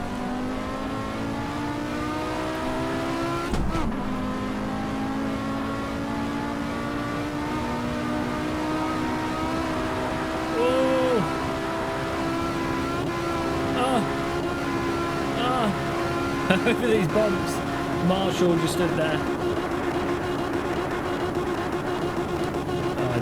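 An Audi Sport quattro S1 rally car in a racing game, its engine held at the rev limiter with a steady high, buzzing drone and stacked harmonics, bumps jolting the car, while someone talks over it.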